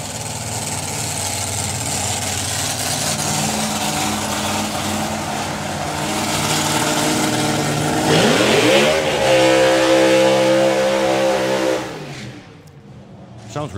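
A drag racing car at the FIA Main Event idles with a rough, loaded rumble, then revs sharply with a rising and falling harmonic sweep before holding a steady high idle and cutting off abruptly, close and loud.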